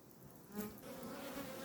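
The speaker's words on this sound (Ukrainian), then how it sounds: "Хоч падає дощик, але бджолки літають" Honey bees fly around a hive during light rain, giving a close, steady buzzing hum that swells slightly and holds for a moment.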